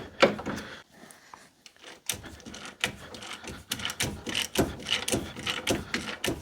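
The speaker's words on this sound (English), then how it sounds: "Probably shouldn't be using my lovely new wheel nut socket for this" Socket wrench loosening a nut while a Daihatsu is being dismantled, rapid metallic ratcheting clicks in repeated close bursts separated by short pauses, with clunks of the tool and parts.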